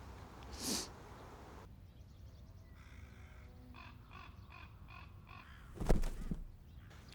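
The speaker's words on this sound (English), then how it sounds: "You probably hear an awful lot of crows in my videos" A crow caws a short series of harsh calls at a distance, with a few other bird notes and a sharp nearby knock in an otherwise quiet, snowy winter outdoor setting.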